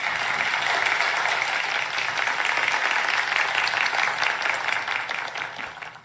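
An audience applauds at a lecture-style event, a steady, dense wash of clapping that holds for several seconds and tapers slightly at the end.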